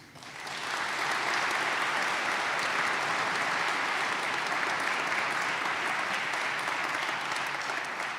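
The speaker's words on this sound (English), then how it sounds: "how about applause again for these students?" A school auditorium audience applauds student musicians after an all-conference band performance, with a dense, steady wash of many hands clapping that swells in during the first second and holds strong throughout.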